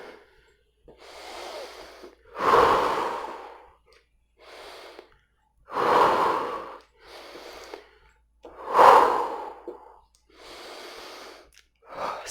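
Heavy, forceful breaths from people during a jumping leg workout in martial arts training, a series of loud rhythmic exhales and inhales with short gaps between them, close and clear.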